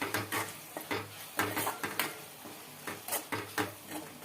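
A spoon stirs turmeric into cooked tomatoes in a pan, making a quiet, close rhythm of scraping and tapping strokes about twice a second with a faint sizzle beneath.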